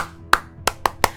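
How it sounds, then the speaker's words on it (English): Four sharp hand claps keep time to a song, spaced unevenly with the last three coming quicker, close and fairly loud with no talking. "I had to do the clapping."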